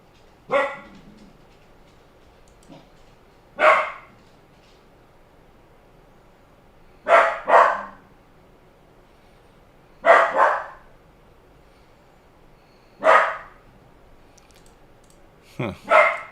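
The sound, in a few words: dog barking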